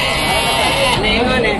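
A goat bleats with a wavering cry at a busy livestock market in Rajarampalli, surrounded by loud crowd chatter and people talking nearby.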